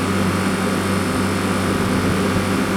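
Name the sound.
milk cooler fan motor running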